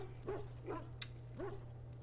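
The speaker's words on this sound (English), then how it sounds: "That dog, mangy mongrel." A dog in the video game Dragon Age Origins gives three short yipping barks spaced about half a second apart, faint over a low steady hum.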